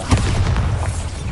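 A Bombarda spell explodes in the video game Hogwarts Legacy as one brief, loud, booming blast with a heavy low rumble.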